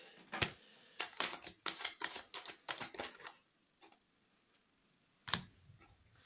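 A deck of tarot cards is cut and shuffled by hand, heard as a close burst of quick card slaps and riffles, then a pause and one last slap, with no talking.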